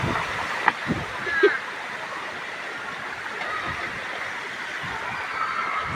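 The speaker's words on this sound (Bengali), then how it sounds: "একদম বন্যা পানি আর পানি" Flood water flowing along a city street in Uttara's Sector 4, a steady rushing wash with a few brief splashes.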